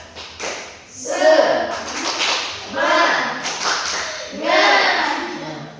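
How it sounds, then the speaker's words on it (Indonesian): Rhythmic 'spirit clap' from a small classroom group during an Islamic studies teaching practice, with patterned bursts of clapping mixed with chanting voices, repeated in three clear phrases. "Tepuk semangat."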